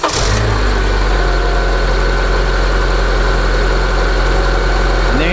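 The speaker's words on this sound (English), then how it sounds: "let's start her up and see how well she starts" A Honda CR-V engine cranks and catches at once after battery corrosion cleaning, settling into a loud, steady idle with a constant low hum and no sputter.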